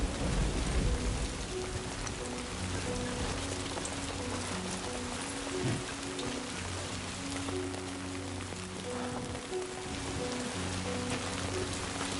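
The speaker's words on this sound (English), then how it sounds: "it's raining fucking hard" Heavy rain pours steadily in the video game Death Stranding 2, a dense continuous downpour heard alone throughout, with low game music tones running underneath.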